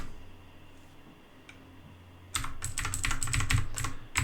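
Someone types on a computer keyboard during a Windows storage setup: after a faint single key tap, a quick run of close, crisp keystrokes follows.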